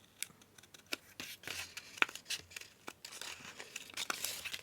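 Fussy scissors snip through fairly thick card to cut out a bird shape for a junk journal, giving a run of close, crisp cuts and papery crinkles at a quiet level.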